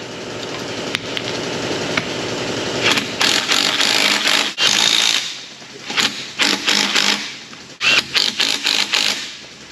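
A torque wrench tightens a wheel on a Jeep Grand Cherokee 5.2 V8, loud bursts of ratcheting clicks coming in uneven spurts with brief pauses.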